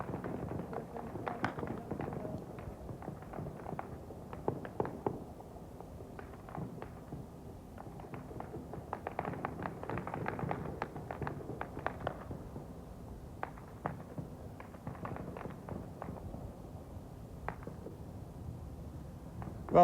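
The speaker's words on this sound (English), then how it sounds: "Well, Ralph, we've just had the first serious shots fired in this crisis, and many of them, several hundred gunshots fired" Gunfire during a crowd clash in Moscow in 1993: many scattered, distant pops and cracks keep going throughout, faint and irregular, with some louder single shots over a low background rumble.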